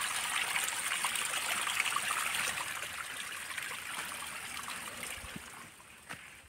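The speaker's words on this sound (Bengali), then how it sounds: "একটি পাইপের মাঝখান দিয়ে ঝর্ণার জলগুলো পড়ছে আর কি।" Fountain water in a park in Bongaigaon pours down through a pipe, making a steady rushing trickle at moderate distance that fades slightly toward the end, with an occasional faint knock.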